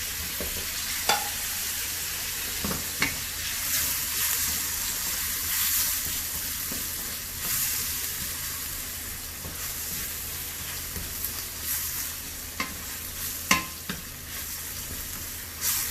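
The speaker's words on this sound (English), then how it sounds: "the green chilies need to cook, so we increase the fire and let it cook. Now add in the tomatoes." Green chilies and tomatoes frying over high heat in a pan while making a rice cooker egg biryani, a steady bright sizzle with occasional spoon taps and stirring clicks, no voices.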